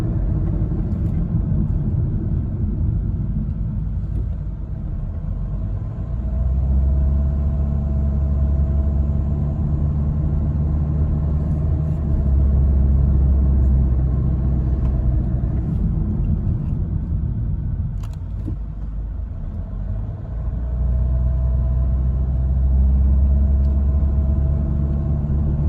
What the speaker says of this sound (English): here we are in our test drive. Just some casual driving with multiple cycles of accelerating and braking